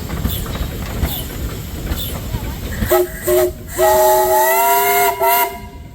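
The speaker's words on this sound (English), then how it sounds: "Any whistles?" A steam engine whistle blows several times at a steam power show, short toots followed by a long sustained blast, loud and close, after rhythmic chuffing from the steam engine.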